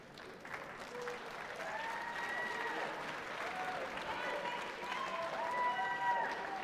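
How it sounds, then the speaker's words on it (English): A graduation crowd at a high school winter commencement breaks into clapping and cheering that grows louder, with voices and whoops blending into the steady applause. "Most times, you all clap at that."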